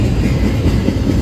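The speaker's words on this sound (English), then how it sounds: "Sounds like he's hitting the brakes." A CPKC freight train rolls past near and loud as it brakes, giving a dense, steady rumble of wheels and cars over the whole short stretch, with no voices.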